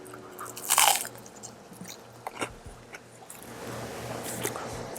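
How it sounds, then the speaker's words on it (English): Crunchy bites into a griddled tuna melt on toasted bread with onions and apple, a loud crisp crunch up close followed by a second bite and steady chewing. "I love the crunch of the onions and the apple in there."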